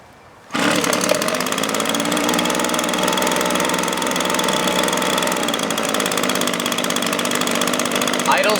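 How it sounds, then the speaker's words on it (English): An Echo or Toro leaf blower engine starts up and settles into a steady, loud, close idle that drones evenly without throttle changes. "Idles really well. It's not a very loud machine."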